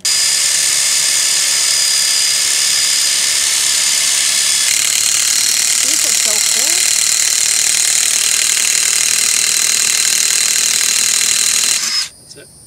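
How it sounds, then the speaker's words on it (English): A power drill fitted with a socket drives the stabilizer jacks on an RV in an RV park, a steady loud whirring with ratcheting mechanical clicks that runs continuously for about twelve seconds before stopping abruptly. "I have the socket on the drill already"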